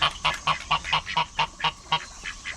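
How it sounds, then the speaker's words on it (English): Young ducklings being raised on a farm call out in a quick, steady series of about a dozen short, close calls over a faint low background hum. "These are the ducks that we got, baby ducks we got to raise."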